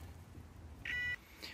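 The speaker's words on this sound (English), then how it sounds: "Nope, still beeps." A warning beep sounds from the electrical box of a Mazda RX-7, one steady electronic tone of about a third of a second over quiet background hum, followed by a fainter blip.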